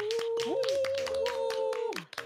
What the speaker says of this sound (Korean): 얘들아 박수!